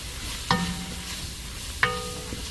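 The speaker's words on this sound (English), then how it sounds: "I have also already added garlic salt to this for flavor, and it is sauteing" Vegetables seasoned with garlic salt sautéing in olive oil give a low steady sizzle, broken by two sharp clanks of a utensil against the pan.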